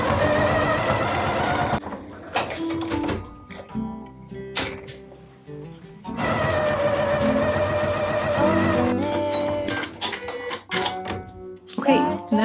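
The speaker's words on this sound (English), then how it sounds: "I'm just gonna go sew from here all the way around to here with a 1/4 inch seam" A sewing machine stitches a quilt-as-you-go baby bib with a quarter-inch seam, running in steady bursts that stop and restart, with short pauses between runs and faint handling noises.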